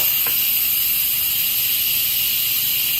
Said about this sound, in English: So I'm going to release the pressure.